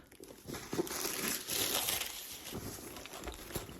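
A fabric dust bag for a Coach Dreamer shoulder bag with rivets crinkles and rustles as it is handled, a continuous close, soft crumpling with a few sharper crackles.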